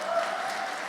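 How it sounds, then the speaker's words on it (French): Applause from the audience at a parents' recognition gala, a steady dense wash of clapping that fills the short moment at moderate level with no break. "mais ces applaudissements-là"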